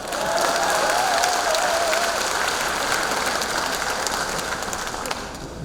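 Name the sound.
audience applause at civic report meeting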